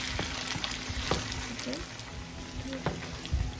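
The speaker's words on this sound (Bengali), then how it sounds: "চিকেনের সাথে পেঁয়াজ, রসুন বাটা এগুলো আবার একটু ভেজে নেব।" Chicken fries with onion and garlic paste in a pan, giving a quiet, steady sizzle broken by a few scraping stirs.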